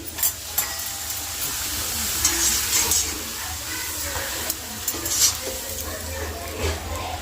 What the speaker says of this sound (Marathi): तेलामध्ये आता पापड टाकते मी